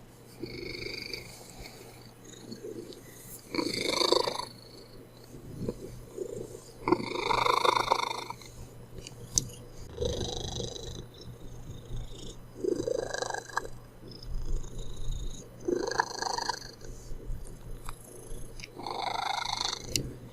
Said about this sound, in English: Listen to this purring.